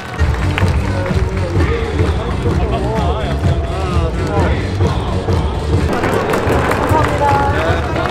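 Stadium crowd at a baseball retirement ceremony for a long-serving one-club pitcher, a dense loud wash of applause, cheering and babble that runs throughout, with a voice over the public address cutting through.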